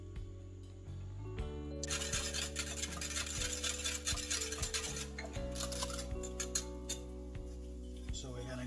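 Taco batter for Baja-style fish and shrimp tacos gets mixed in a bowl, with a utensil clinking and scraping in quick irregular strokes, close and fairly quiet over a low background of music.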